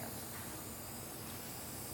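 Steady, faint hiss of spray paint from an aerosol can, a continuous airy spray held without pause.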